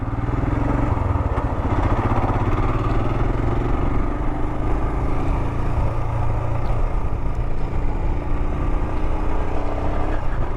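A commuter motorcycle engine runs steadily at close range, a constant loud rumble with a slight mechanical clatter and no clear revving or speech.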